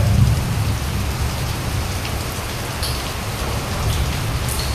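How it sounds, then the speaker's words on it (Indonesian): Heavy rain pours steadily outside a tent at a campsite, a loud continuous hiss with drumming drops and no break. "Tuh ya, di luar hujan ya."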